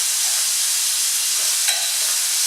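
Chunks of lamb fry in a pan, part of a kilo of meat cooked in batches for a lamb tagine, giving a loud, steady, close sizzle with one brief click partway through.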